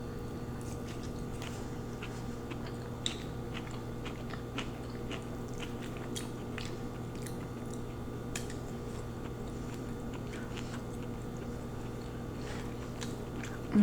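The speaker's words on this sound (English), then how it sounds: "The crunch from the veggies." Someone eats combination lo mein with crunchy vegetables, giving soft repeated bites and crunches close up over a constant low hum.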